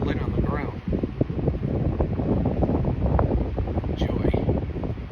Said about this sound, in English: It's still windy, and it's going to be windy all night